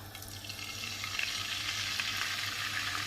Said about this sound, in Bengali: তেলটা গরম হয়ে গেলে হাই হিটেই আমি এই মাংসগুলোকে